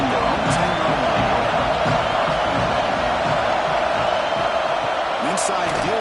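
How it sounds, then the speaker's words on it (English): Football stadium crowd during an Old Dominion versus Arkansas college game, a dense, steady roar filling the whole stretch with scattered whoops and shouts rising from the mass of voices. "this crowd coming to life here trying to help the defense get a stop"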